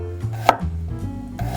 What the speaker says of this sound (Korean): 마늘 한 2톨 정도는 편으로. 너무 두껍게 편 썰지 마시고요.